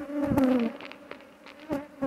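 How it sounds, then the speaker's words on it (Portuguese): Honeybees buzz loudly at an apiary hive, a dense droning hum with overlapping individual bees passing close by, strongest at the start and swelling again near the end. "mas tem bastante abelha sim."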